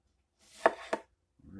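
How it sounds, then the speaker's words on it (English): A sharp knife cutting through green tomatoes on a board, two close, crisp chops in quick succession, followed by a brief pause and a faint sound at the end. "We're just gonna cut these real quick"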